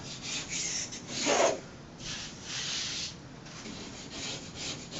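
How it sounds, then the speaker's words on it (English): A scraper or sandpaper is worked over a wall to smooth away bumps before a peel-and-stick mural goes up, giving soft rasping strokes in an uneven rhythm, close and fairly quiet, with one louder scrape. "Scrape off any little bumps."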